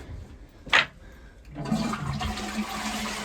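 A toilet flushes with a short sharp burst, then water rushes and refills steadily at close range, with no talking.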